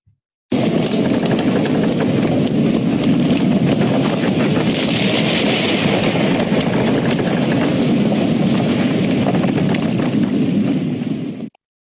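A boat engine runs steadily while the craft is underway, a loud constant rumble mixed with wind and water rush that holds for about eleven seconds before cutting off, with no talking.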